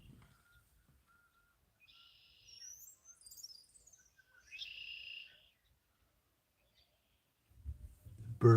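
Birds chirp outdoors in a few short, thin bursts, faint and somewhat distant, with quiet gaps between them and a low rumble of handling at the end.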